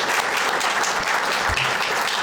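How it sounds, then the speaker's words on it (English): Audience applause for two men being introduced at a history center event about the Oak Ridge Bombers, steady dense clapping filling the room throughout without pause. "Let's give them a really big round of applause."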